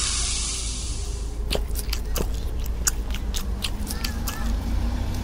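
Someone chews takoyaki close up, producing soft irregular wet bites and mastication clicks after a brief bright rushing noise at the start, with a low background hum.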